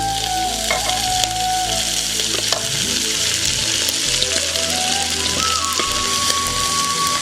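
Leaves for pathila thoran drop into hot oil with popped mustard seeds and rice, producing a loud, continuous crackling sizzle with stirring scrapes and no voices.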